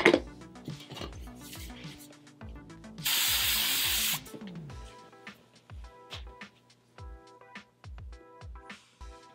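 Hair spray misted onto a human hair wig styled in a Farrah Fawcett look: one loud, steady hiss lasting about a second, close to the mic, set among light clicks and handling taps.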